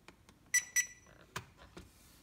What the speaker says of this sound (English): you should hear a couple of beeps